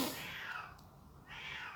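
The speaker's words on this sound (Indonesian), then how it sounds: "maaf ya ada suara kucing ya, itu bukan kucing saya nggak punya kucing," A cat meowing outdoors, heard faintly from inside: two drawn-out mews separated by a short pause, distant and soft, with no talk over them.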